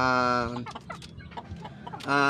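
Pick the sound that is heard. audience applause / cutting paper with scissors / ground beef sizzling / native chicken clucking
native chicken clucking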